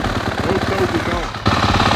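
A clapped-out 2023 Suzuki RMZ-450 dirt bike engine runs after a kick start, giving off a loud, rapid, pulsing rumble that shifts abruptly partway through.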